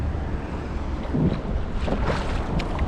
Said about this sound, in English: I know the wind's supposed to be similar to this.